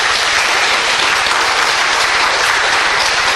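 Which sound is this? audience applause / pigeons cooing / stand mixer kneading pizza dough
audience applause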